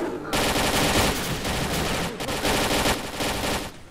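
Rapid automatic gunfire bursts loudly in a S.T.A.L.K.E.R.: Call of Pripyat firefight, near and nearly continuous with brief gaps between volleys.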